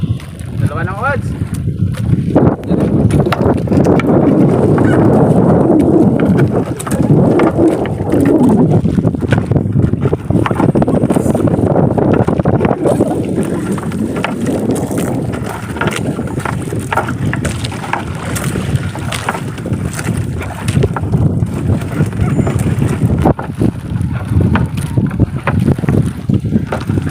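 Strong wind at sea batters a small fishing boat at low tide, a heavy, constant roaring buffet of gusts over the microphone mixed with water and hull noise, with people talking now and then underneath.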